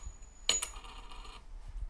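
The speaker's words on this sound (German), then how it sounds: "Okay, Google, wirf eine Münze." Google Assistant's coin-flip sound effect, a single bright metallic clink and short ringing spin heard alone, close and clear, in a quiet kitchen.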